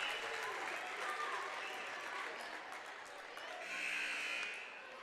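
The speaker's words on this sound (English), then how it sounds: "As Woburn now subbing out most of their team to a standing ovation from the crowd." A crowd gives a standing ovation at a girls' high school basketball playoff game in a gym as Woburn subs out most of its team: sustained applause and cheering, broad and reverberant, swelling again near the end.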